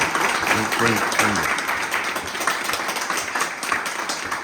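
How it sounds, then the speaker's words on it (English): Audience applause at an indoor presentation evening, steady broad clapping from a crowd that rises over someone speaking into a microphone and then carries on alone. "Give them a round of applause, because you never see them."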